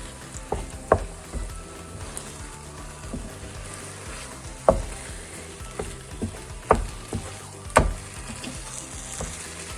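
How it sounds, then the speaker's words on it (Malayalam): Bitter gourd halwa with ghee and cardamom stirred in a pan, a soft continuous sizzle broken by irregular scraping and clacking strokes of the spoon, close by with no voices. "അപ്പോൾ ഇനിയിപ്പം ഒട്ടും കൈ വിടാതെ ഇളക്കണം"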